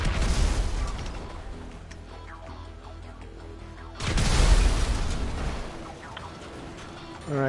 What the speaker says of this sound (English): That car's still exploding.